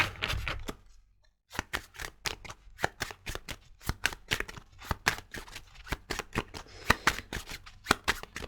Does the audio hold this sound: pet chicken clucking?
no